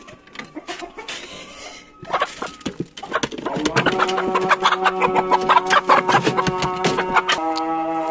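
A rooster clucks repeatedly and rhythmically to call its hens, close by and fairly loud, with continuous chicken clucking building in intensity over several seconds on a farm.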